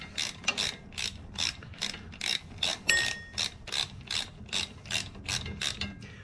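A hand ratchet loosens a brake bolt on a motorcycle during a brake pad replacement, giving a steady run of about fifteen sharp, close clicking strokes in an even rhythm with no talking.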